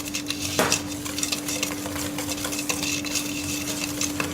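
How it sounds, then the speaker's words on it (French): A spoon stirs pastry cream flavoured with rousquille in a pot or bowl, a steady close scraping with light clinks, alongside a constant hum. "Là maintenant il n'y a plus qu'à mélanger."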